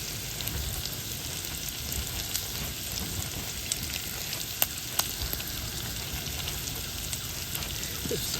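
Italian sausage and gnocchi fry in sage and rosemary brown butter, a steady soft sizzle and crackle with a few sharp pops, close but fairly quiet.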